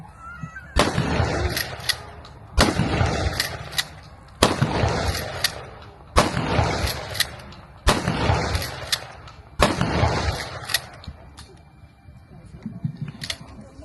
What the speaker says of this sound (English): You'll be shooting 6 rounds, so keep your ears covered.